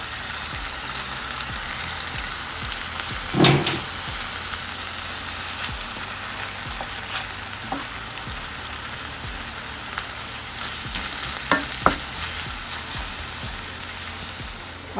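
Fish stew bubbles and sizzles in a pot with a soft, steady frying crackle, broken by an occasional clink or tap, one sharper knock early on; no one speaks.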